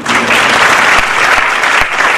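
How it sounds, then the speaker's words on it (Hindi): An audience at a talk or lecture bursts into loud, dense applause, many hands clapping continuously and close for the whole stretch. "ताली बजा दो"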